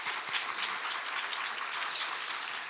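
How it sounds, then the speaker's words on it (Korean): Scattered applause from a church congregation during a Sunday service, a steady patter of clapping hands sustained for a few seconds. "다른 그런 것은 아니지만 우리 백 목사님 앞으로 하나님께서 잘 세워가실 줄 믿고 우리 격려한다는 의미로 박수 한번 보내주시면 감사하겠습니다."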